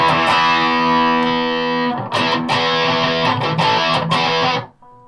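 Electric guitar played through a Boss Metal Zone MT-2W Waza Craft distortion pedal, thick saturated chords sustained for about two seconds, then a choppier run of heavily distorted strums ending abruptly, with no talking.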